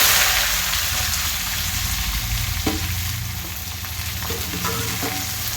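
Potato, eggplant and peas fry in hot oil with panch phoron, a steady loud sizzle filling the clip with a few sharp clinks of a utensil against the pan near the middle and end.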